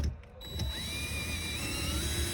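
A hand ratchet snugs down 8mm hex nuts during a vehicle electronics installation, a steady close mechanical clicking that runs through the whole short stretch with no talking.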